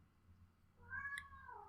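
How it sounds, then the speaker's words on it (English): A single faint cat meow rises late in the clip over a quiet low hum, with no talking. "That's my cat in the background. She's meowing."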